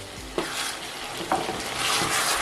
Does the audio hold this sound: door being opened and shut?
no